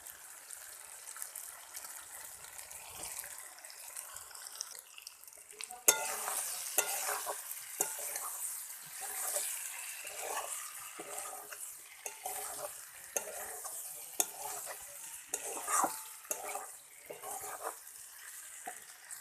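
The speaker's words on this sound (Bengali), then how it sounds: "এবার আমি ভেজে রাখা ফুলকপি আলুগুলো দিয়ে দেবো" Cauliflower and potatoes fried earlier are stirred into cooked masala in a pan while making a winter tilapia fish curry, giving steady scraping and clattering with a bright oil sizzle that swells loudly after a few seconds, no talking.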